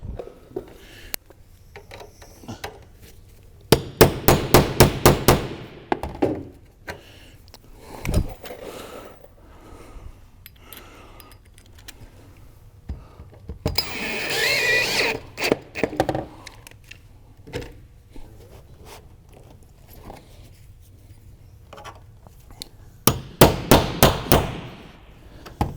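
A punch is hammered onto a dud screw while installing a roof ridge cap, heard as three quick bursts of sharp metallic taps, each a rapid run of close, loud strikes separated by quieter stretches.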